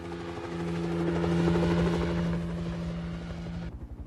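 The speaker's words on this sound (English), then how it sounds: "I've been flying helicopters for years." Helicopter in flight from an action film scene, a steady loud rotor drone with a strong low buzzing hum that swells and then cuts off near the end, with no talking.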